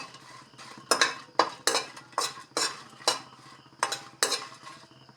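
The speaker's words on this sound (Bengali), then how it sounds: "মরিচগুলি ভাজা হচ্ছে আস্তে আস্তে।" A metal spatula scrapes and clanks in a pan at a regular pace while chillies fry for a jujube pickle, with roughly ten sharp stirring strokes close by and no voices.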